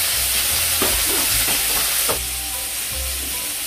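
Chicken pieces hit a pan of frying onions and set off a steady, loud sizzle. A few stirring scrapes sound over the top, and the frying carries on without a break.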